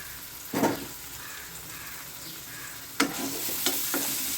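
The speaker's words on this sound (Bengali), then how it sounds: "এটা আমার বেশ হালকা ভাজা হয়ে গেছে" Oats frying lightly in a pan with a little salt, giving a soft steady sizzle with a few louder stirring scrapes, close by and with no talking.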